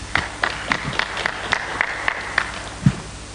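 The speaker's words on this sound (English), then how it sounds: "Can you clap for yourselves?" Scattered, sparse hand claps from a conference audience at a Pan African human rights and counter-terrorism event, about a dozen separate claps spread unevenly over a few seconds against a faint room hum.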